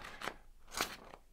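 Two crisp slicing strokes through paper, with a fainter third snip near the end, close and dry with short crackly edges.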